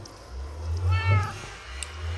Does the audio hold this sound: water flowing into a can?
no